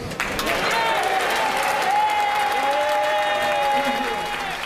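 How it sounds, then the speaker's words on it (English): An audience applauds a speech by Starmer with sustained, even clapping throughout, while a voice speaks over the top. "That the very people that have got rid of him had the cheek to stand up and clap him."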